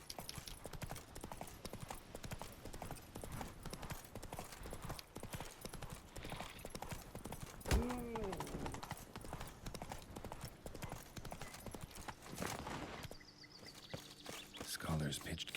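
Horse hooves clip-clopping in steady rhythm in the Witcher 3 Blood and Wine game world, with a brief whinny midway, faint birdsong and background talk over the hoofbeats.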